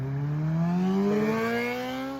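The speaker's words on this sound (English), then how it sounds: "And there's the motorcycle." A motorcycle passes nearby, its engine tone climbing steadily and droning loudly before easing off as it moves away.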